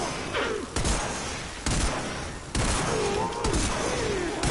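Weapon fire in the video game Warframe, a staticor-type gun shooting at the ground among heavy gunner enemies, with a few loud blasts and explosive booms breaking through a dense, continuous battle din.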